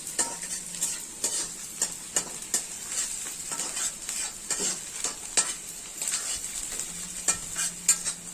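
Chili frying in a pan, a steady sizzle with repeated scraping and stirring clicks of a utensil against the pan, close and alone without talk.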